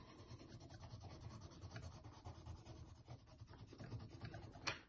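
Charcoal pencil drawing on paper, a steady dry scratching and rubbing of strokes running throughout, fairly close, with a brighter scrape near the end.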